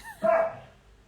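A dog gives one sharp, close bark, an older dog irritated by a new puppy, that fades quickly into quiet.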